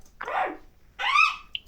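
A small dog in a video game gives two short yappy barks, close and fairly loud, with a brief high chirp between them.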